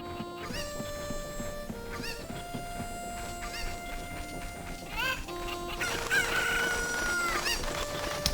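Chickens cluck and a rooster crows in the Zelda: Ocarina of Time game, in Kakariko Village, over steady game music. The calls are repeated, short and bright, and a voice talks intermittently underneath.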